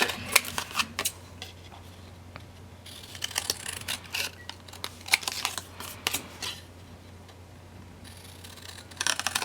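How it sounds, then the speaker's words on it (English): Scissors snip through scrap paper along a pencil line, a run of crisp, close cuts in uneven clusters with short pauses between strokes. "I'm just going to trim it with my scissors"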